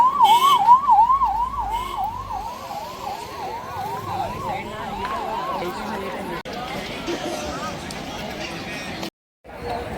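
A wailing ambulance siren rises and falls rapidly, loud at first and slowly fading into the distance over traffic and crowd noise of a temple pilgrimage procession, with voices around it.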